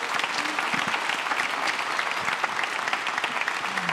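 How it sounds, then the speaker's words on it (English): An audience gives a warm round of applause for a Singapore Symphony Orchestra musician at an Advent gathering with brass band and choir. The clapping is steady and dense, a close, even crowd wash lasting a few seconds. "Give her a round of applause"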